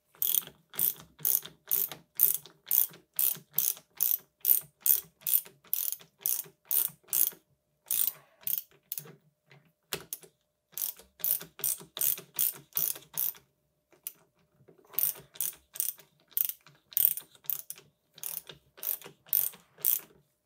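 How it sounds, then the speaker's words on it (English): Ratchet wrench turning counterclockwise to unscrew a 2019 FOX Factory 36 Float Grip 2 fork, crisp rapid clicking strokes in repeated bursts with short pauses, close and clear with no talking. "And we are going to unscrew counterclockwise, just like that."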